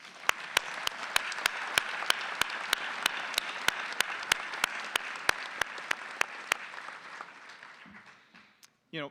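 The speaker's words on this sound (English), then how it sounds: "let's give applause to our honorary doctorates" Graduation crowd applauding honorary doctorates, dense sustained clapping with regular sharp claps punctuating it, fading out after about seven seconds before brief low sounds close the moment.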